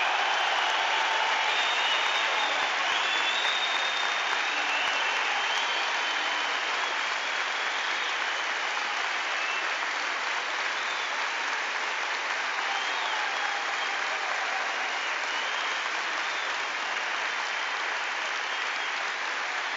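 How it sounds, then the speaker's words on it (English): A stadium crowd of Celtic football fans applauds and cheers for the club figure Fergus McCann on flag day. The clapping and roar hold as a broad, steady wash of sound for the whole stretch. "will cheer, rightly so, for Fergus McCann, and listen to that cheer."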